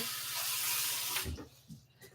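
Water runs from a kitchen tap in a steady rushing stream during home baking, then cuts off, leaving a few brief clattering handling noises.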